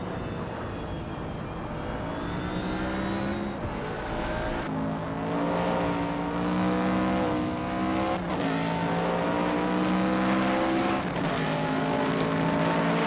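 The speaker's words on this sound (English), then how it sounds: "Bot Kick's Mechanic and Bot Raudivzerolf are nose to tail fighting for first place" Race cars in a racing video game roar continuously, with layered engine tones climbing through the revs and breaking at repeated gear shifts, loud and close, with no talk.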